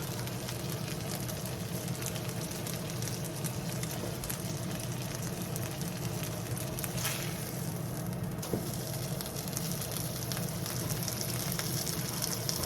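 Corned beef sizzles on a stovetop griddle, a steady, close crackle and hiss that holds evenly throughout with no talking.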